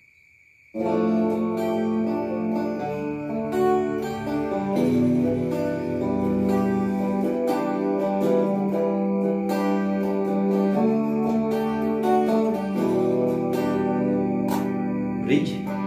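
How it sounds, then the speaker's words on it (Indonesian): An Ibanez JEM electric guitar plays with a clean tone on its neck pickup: warm sustained chords and ringing notes that start abruptly and continue steadily, with no talking. "Ini suara neck-nya."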